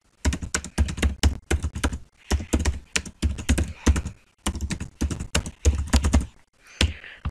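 Rapid, uneven keystrokes on a computer keyboard sound close and clear in short bursts with brief pauses, typing out crossword questions in a puzzle-making program.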